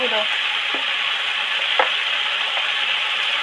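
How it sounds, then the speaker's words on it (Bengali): Vegetables with green chillies, chilli powder and turmeric sizzle loudly and steadily in a hot pan, with occasional scraping knocks as they are stirred. "আর এক চামচ হলুদ গুঁড়ো দিয়ে ভালো করে নেড়ে ছেড়ে মিশিয়ে দেবো"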